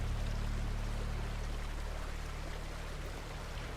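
Continuous low rumbling roar of rushing water at the lower falls of the Yellowstone River in a canyon, steady and broadband with a deep hum underneath, no voices.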